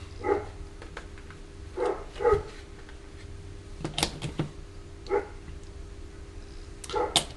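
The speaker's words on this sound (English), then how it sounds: "Dogs have got hold of someone." Dogs bark outside in a few separate, moderately distant bursts spread across the clip, over a steady background hum indoors.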